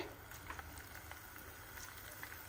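Small onion pakora fritters bubbling and frying in hot oil, a soft steady hiss with faint scattered pops, low and fairly quiet throughout.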